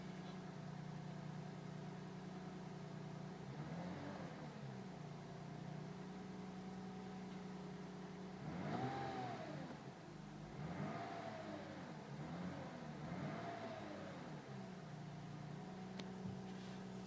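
A Lexus IS 250 engine idles steadily, then revs in several rising and falling swells, one around the four-second mark and a cluster of three more later, all close and fairly loud with no talking.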